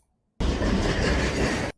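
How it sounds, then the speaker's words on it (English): An old train rumbles past in a horror film, a loud dense roar that starts abruptly, holds steady for over a second and cuts off, with no talk. "Old train."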